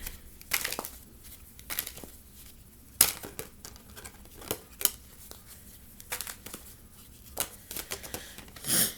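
Tarot cards being shuffled by hand, a series of crisp riffles and slaps with short pauses between, close and fairly quiet.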